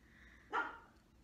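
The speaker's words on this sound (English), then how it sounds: "That's why he barks all the time." A single sharp bark from a 13-year-old Maltese dog, brief and moderately loud against a quiet indoor background.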